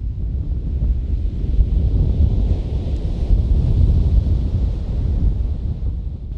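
Stormy wind roars over the Black Sea coast, a heavy, continuous low rumble with breaking surf blended into the gusts, loud and close throughout with no voices.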